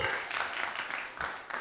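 A live audience breaks into applause and clapping during a comedy act, a dense, steady wash of hand claps that fills the short moment at moderate volume.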